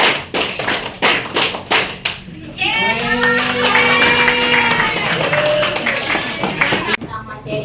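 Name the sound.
children clapping hands in counting game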